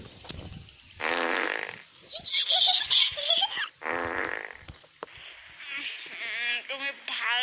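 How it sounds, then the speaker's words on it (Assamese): A cartoon character breaks wind in a string of drawn-out, buzzy farting noises, close and loud, alternating with giggling and laughter and a short voiced exclamation. "ৰিংকিয়ে ইমান পাদা দিছে"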